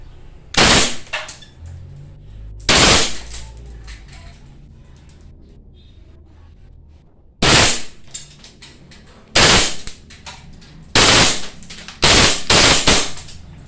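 A gas-powered Glock 18 airsoft pistol fires on full auto in about seven sharp, loud bursts, some spaced seconds apart and others coming in quick succession, with quiet pauses between them.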